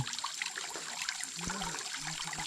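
Clear water of a small hill stream flowing, a continuous close burble and trickle with a few deeper gurgles, steady and moderately faint with no voices.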